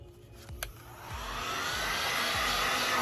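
A heat gun blows steadily while warming vinyl wrap on a Jeep Wrangler, a close, constant airy whoosh that builds slightly and then holds, with a few faint low thumps at the start.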